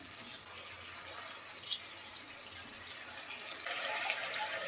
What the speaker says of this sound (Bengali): সামান্য একটু পানি দিয়ে দেব